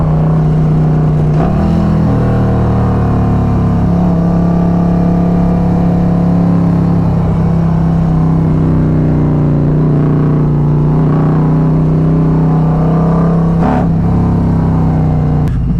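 A Harley-Davidson Road Glide motorcycle cruises along side streets, its engine giving a steady, close, loud drone with a held pitch for most of the ride and brief shifts in revs near the start and near the end.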